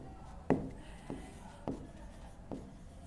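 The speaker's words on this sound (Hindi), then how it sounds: "यहां पे मैं लिख देता हूं" Handwriting on a board during a biology lesson, four distinct strokes with short scratchy taps spaced about half a second apart, close and fairly quiet.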